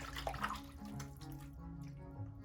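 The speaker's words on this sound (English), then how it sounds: "Now I'll try rinsing it off." Tap water running steadily over oily hands at a sink during a soap-and-water demonstration, a continuous close splashing wash with small drips, heard alone.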